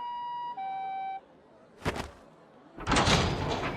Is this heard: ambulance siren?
yes